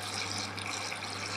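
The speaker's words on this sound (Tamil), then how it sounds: "தண்ணி தேவையான தண்ணி ஊற்றிங்கம்மா" Water poured into a pan of cooking greens seasoned with salt: a steady, close hiss of flowing liquid, continuous for its whole short length, with no talk.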